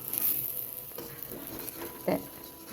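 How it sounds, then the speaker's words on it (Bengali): Pea lentil fritters (bora) frying in oil in a home kitchen, a soft steady sizzle running throughout with a couple of brief louder crackles near the end. "এইভাবে ভেজে নিলাম, বড়া, মটর ডালের বড়া"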